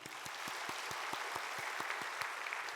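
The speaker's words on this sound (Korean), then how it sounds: "자, 박수하겠습니다." Steady applause from a large church congregation during a worship service, dense clapping sustained at an even level throughout.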